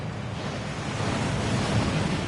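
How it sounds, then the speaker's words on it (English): A waterfall in the video game Hogwarts Legacy gives off a steady, loud rush of falling water, a broad even roar that holds for the whole stretch with no talk over it. "That waterfall washes away all enchantments."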